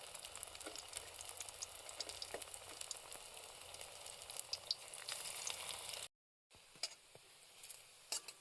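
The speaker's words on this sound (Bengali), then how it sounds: "একে করে সব কটা পকোড়া ভেজে নেব।" Small shrimp pakoras, shaped a little flat, fry in hot oil with a soft, continuous sizzle and light crackle that drops out briefly before resuming faintly.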